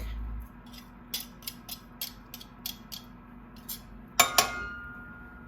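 A metal garlic press crushes garlic cloves into a fine mince, producing a series of sharp, close metallic clicks and clinks at irregular intervals, ending in a louder double clank.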